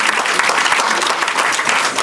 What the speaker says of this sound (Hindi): मैं चाहूँगा उनके लिए आप तालियां बजाएं